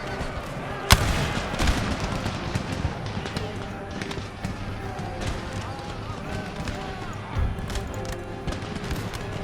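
Musket volley fire from marines in Empire Total War, scattered crackling shots over dense battlefield noise, with one sharp report early on and talk running throughout.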